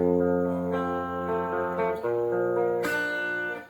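Electric guitar playing a song's riff, a few sustained, ringing notes and chord changes, close and clear, with no voices.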